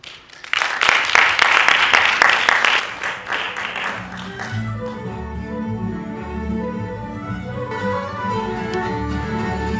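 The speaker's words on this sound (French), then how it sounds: "Je vous demande de bien les applaudir fort," An audience at a community arts event in Brussels claps for the performers, a lively burst of applause for about four seconds before it dies out and voices take over.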